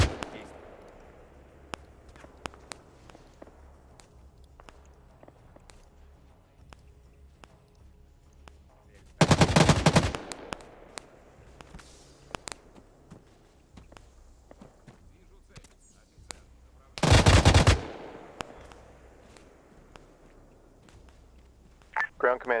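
Kord heavy machine gun in a military video game firing two long dense bursts of rapid shots, loud and close, separated by quieter stretches of clicks and distant background sounds.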